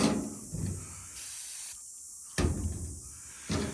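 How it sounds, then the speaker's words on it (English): Several hissing bursts of an aerosol spray cleaner removing a sticker, three sharp sprays of varying length separated by short pauses, close and loud. "that spray away takes that sticker right off"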